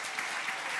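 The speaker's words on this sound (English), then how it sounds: "Can we have a round of applause," Brief burst of audience applause for an editor-in-chief walking on stage at a magazine team event, soft and continuous.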